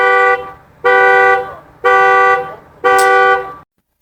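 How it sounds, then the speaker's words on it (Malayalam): A parked car's alarm blares nearby in four loud, evenly spaced tonal blasts, each about half a second to a second long with short gaps between, and no voices. "ഒരു കാറിൻ്റെ അലാറം അടിച്ചതാണ്."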